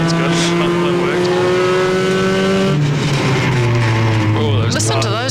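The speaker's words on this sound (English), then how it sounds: "Oh, listen to those tyres." Car in Need For Speed racing game: a loud engine drone with gear changes and tyre noise, pitch dropping midway then rising again, heard with talking over it.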